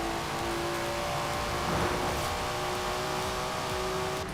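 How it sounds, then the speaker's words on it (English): Engine of a Datsun car in the racing game Forza Horizon 4, a steady loud drone with sustained tonal whine and a slight swell midway, running continuously with no talk. "never heard a Datsun sound like that, have you?"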